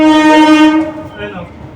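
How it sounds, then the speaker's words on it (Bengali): A train rolls past sounding its horn: a loud, sustained harmonic blast that holds and then fades as rail noise continues, with a person speaking over it. "ট্রেন চলে এসছে আওয়াজ করতে করতে"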